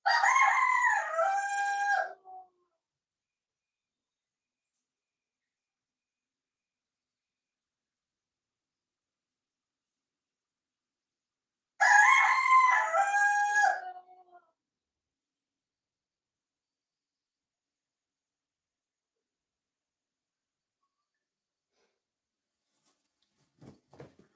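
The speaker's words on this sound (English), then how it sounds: "my chicken is making noise, always disturbing me" A rooster crows twice in the early morning in Nigeria, two loud, clear calls about ten seconds apart with silence between them and a few faint ticks near the end.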